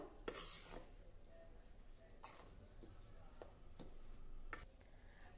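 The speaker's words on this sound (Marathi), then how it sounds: "चवीनुसार लाल तिखट चवीनुसार मीठ घालूया थोडं मिक्स करून घेऊ" A spoon clinks faintly against a bowl as red chilli powder and salt are mixed into a coarse batter for vadas, with a few sharp taps spaced across a quiet background.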